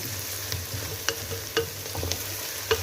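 Beef frying with paprika in a pan for Hungarian goulash, a steady close sizzle with scattered sharp pops and the scrape of stirring, no voices.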